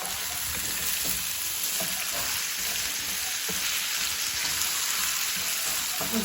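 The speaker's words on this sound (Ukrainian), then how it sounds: "Смазала, щоб цибулька більше смажена" Onion fries in a greased pan with a loud, steady sizzle close by, and faint stirring scrapes show through the sizzle.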